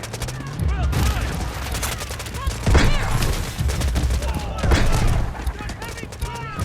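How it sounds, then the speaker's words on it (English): Heavy gunfire in the Delta Force Mobile video game, dense overlapping bursts of rifle and machine-gun fire with booming impacts, loud and continuous throughout, with shouted voices mixed in. "Heavy fire!"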